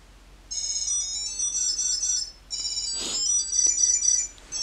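A Tile Pro Bluetooth tracker tag plays an electronic ringing chime in repeating bursts at moderate volume from about 10 feet away, with a brief knock partway through.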